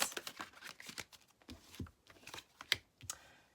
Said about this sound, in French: Je vais prendre 2 cartes max.